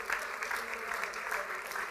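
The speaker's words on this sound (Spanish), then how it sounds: "Would you clap your hands to the Lord," Church congregation clapping hands together in sustained, steady applause, a dense continuous patter of many hands filling the room without pause.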